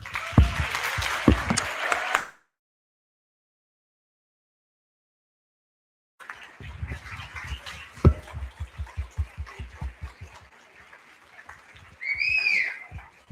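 Indoor audience at an academic opening session applauding in two bursts of clapping separated by several seconds of silence; the second burst thins out into scattered claps, with a brief whistle or voice near the end.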